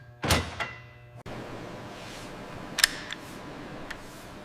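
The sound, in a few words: M240 machine gun bolt sliding home under spring force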